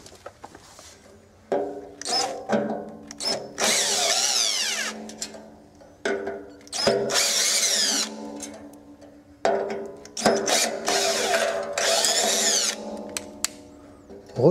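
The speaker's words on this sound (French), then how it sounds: "Alors on va dévisser les 3 vis." A power drill backs out three screws from the strike plate of a swinging gate, with repeated whirring bursts of varying length separated by short pauses, close and fairly loud.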